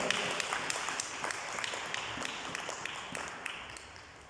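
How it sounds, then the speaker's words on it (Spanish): A church congregation gives a round of applause, steady quiet clapping from many hands that fades toward the end. "Un fuerte el aplauso"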